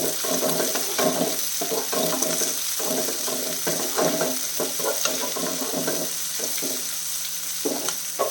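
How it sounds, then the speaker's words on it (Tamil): Clove beans sautéing with garlic and onion in a pan, a continuous sizzle with repeated spoon stirring and scraping, close and steady. "இப்போ வந்து இந்த முக்கூத்தி அவரை சேர்த்துடலாம் சேர்த்து நல்லா வதக்கிடலாம்"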